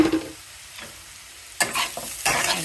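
Snake gourd fry tossed with masala in a pan, with a few scraping stir strokes and a soft sizzle, quiet at first and then louder near the end.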